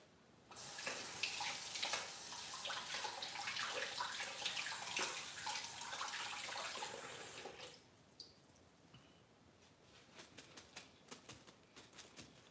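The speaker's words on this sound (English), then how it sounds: "I'm going to rinse them off." Tap water runs steadily as sprigs of fresh mint are rinsed for juice, a loud close splashing flow for several seconds that cuts off, leaving faint drips and light handling clicks.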